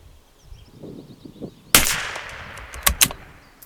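A single sharp crack from a Tikka T1X rifle firing an Eley Tenex .22LR round, followed by a short tail and two fainter metallic clicks from the bolt, heard close up after a stretch of quiet background rustle.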